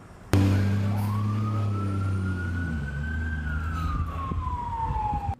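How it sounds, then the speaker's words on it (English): A fire truck siren from the Bulverde Spring Branch Fire and EMS Department winds up from a low rumble, rising into a long wail that slowly falls away, with a heavy engine drone underneath. "The sirens at the Bulverde Spring Branch Fire and EMS Department seem to be getting lots of use lately"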